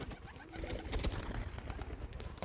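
White homing pigeons coo softly and continuously inside a pigeon loft, with rustling and a rough background murmur around them.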